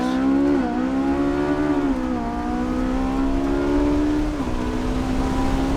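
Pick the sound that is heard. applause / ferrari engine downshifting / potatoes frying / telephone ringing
ferrari engine downshifting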